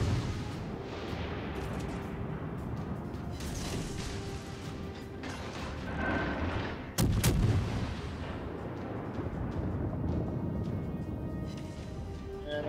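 Naval guns boom in a World of Warships Legends battle, heavy artillery blasts over a constant rumble of game ambience, with one sharp, loud salvo standing out near the middle.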